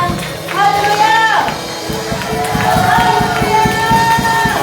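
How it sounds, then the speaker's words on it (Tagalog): A church congregation claps along in rhythm at a Sunday praise and worship service, steady hand claps under loud singing and music in a big reverberant room. "Kailangan na palakpak sa ating Panginoon."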